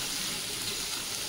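Chopped ridge gourd frying in a pan over a medium flame gives a steady, soft, even sizzle that fills the clip, with no talk.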